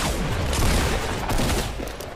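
Dense, continuous gunfire in Fortnite during a Pro-Am tournament match, a rapid fusillade of overlapping shots filling the short stretch at steady loudness.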